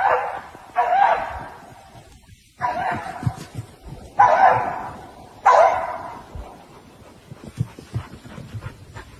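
A dog barks and yelps in several sharp bursts while chasing a rabbit outdoors, the calls spaced a second or so apart over rustling background noise.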